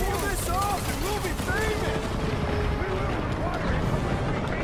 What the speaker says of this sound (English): I'm literally shooting my own people right now.